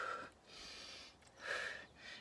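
Heavy, audible breaths during a plank-and-row ab exercise, three long forceful exhale-inhale cycles rising and falling, close to the microphone with no speech.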